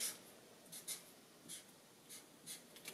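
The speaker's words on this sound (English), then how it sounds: "let's sign our frame." Pencil signing an artwork frame, quiet close scratching strokes in short bursts with brief pauses, soft and intimate with no talk.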